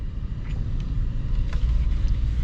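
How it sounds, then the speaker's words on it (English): Shelby F-150 Off-Road pickup truck setting off, a steady low engine and road rumble heard from inside the cab, continuous and moderately loud with no talking. "let's set off in this Shelby F-150 Off-Road."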